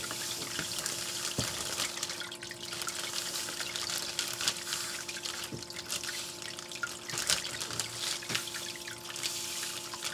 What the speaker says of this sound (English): So let's just get this poured out into the pan. Throw a little juice on it.